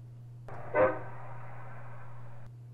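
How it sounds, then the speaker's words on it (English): A single long, steady air horn blast sounds from a distance for about two seconds, over a low constant hum. "Asshole blowing his air horn third morning in a row."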